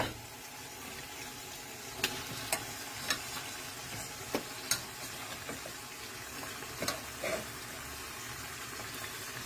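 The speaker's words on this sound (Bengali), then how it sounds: "এবার এর মধ্যে দিয়ে দেবো ম্যারিনেট করে রাখা চিকেনটা।" Marinated chicken frying in a hot pan for palak chicken, a steady quiet sizzle with a few sharp clinks of a utensil against the pan scattered through it.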